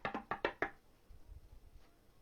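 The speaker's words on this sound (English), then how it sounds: "I heard knocking." Knocking on a door: five sharp raps in quick, slightly uneven rhythm, fairly close, followed by faint low rumbling and near silence.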